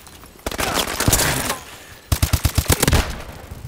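Gunfire in the online multiplayer shooter Call of Duty: Advanced Warfare: a sustained burst of automatic fire, then a brief pause and a run of sharp, distinct shots in quick succession, loud and close.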